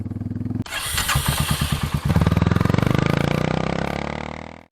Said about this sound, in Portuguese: fazer um vídeo gravando o som da moto. E para isso eu retirei o abafador da moto